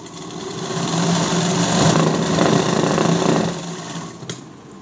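A sewing machine stitches the lining of a blouse in a close, steady mechanical whir that grows a little louder in the middle, then slows and stops with a final click.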